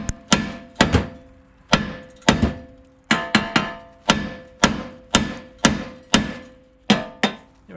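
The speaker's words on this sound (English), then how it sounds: "Get your hammer and hit right on the knuckle," A hammer strikes the steering knuckle of a 1997–2005 Lexus GS again and again, hard metallic whacks landing up close in an irregular but steady rhythm, about fifteen blows, each ringing briefly.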